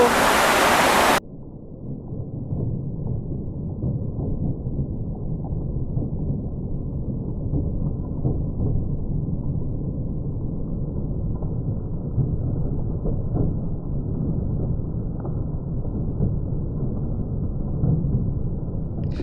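Dense, steady rushing of heavy rain at Phu Kradueng fills the whole stretch after a short burst of broadband noise at the start, with no voices.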